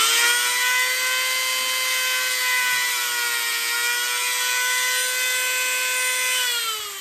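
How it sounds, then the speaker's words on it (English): A Dremel rotary tool with a grinding stone whines steadily as it grinds the barb off a fishing jig hook, a loud, sustained high-pitched whir that holds nearly constant and dips slightly at the end. "you can get a smaller stone than this to fix your Dremel tool"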